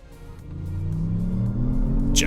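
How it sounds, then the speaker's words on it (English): A 2023 Lexus RX accelerates on the road, its engine note rising steadily in pitch and loudness as it gathers speed, close and continuous with road rumble underneath. "Let's get it on the road now and see how it drives."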